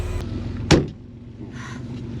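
A Porsche 964 door swings shut with a single solid thud, close and fairly loud, followed by a brief mechanical whir, with no talking.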